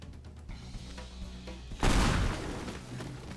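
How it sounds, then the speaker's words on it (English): A huge bomb explosion in the video game Teardown bursts out loud and broadband partway through, then decays into rumbling debris after quieter crackling. "That's a huge explosion."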